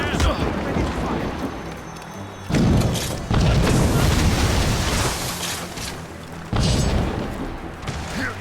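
Heavy booming ship cannon fire in an Assassin's Creed Rogue naval battle: several loud blasts with rumbling tails arrive in bursts over sea and battle noise, and voices shout nearby.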